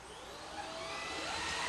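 A Roborock robot vacuum cleaner runs steadily at moderate distance, a continuous whirring motor hum with brush noise that grows slightly louder over a short stretch, with no talking.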